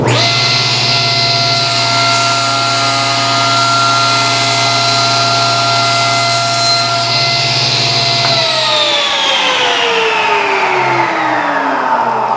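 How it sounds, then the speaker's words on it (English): A table saw blade cuts through a thin wood slat on a cast iron tabletop, giving a loud, steady high-pitched whine with no voices. Near the end the blade spins down and the pitch slowly falls. "Take a cut, bring your saw blade up to the close to the highest point."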